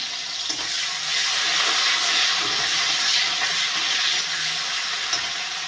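Chopped raw onion sizzles in a pan with a dense, steady hiss throughout, moderately loud and unbroken, with occasional faint clicks of stirring.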